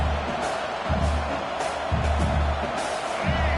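Stadium crowd roaring in the College Football 26 video game, a dense, steady wall of cheering that swells and dips in waves and stays loud and continuous throughout.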